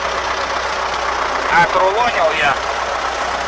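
A Kun tractor's engine drones steadily at idle-to-medium revs while bales are collected in a hayfield, close and continuous, with someone speaking briefly over it.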